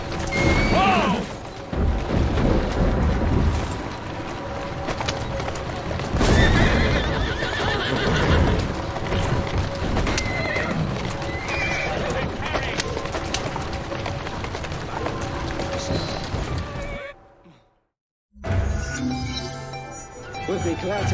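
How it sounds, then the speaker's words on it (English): A horse in Assassin's Creed Syndicate lets out a loud neigh among clattering hooves and street commotion, with voices talking over it, then a brief silence before the sound resumes. "Who's a good horse? You are."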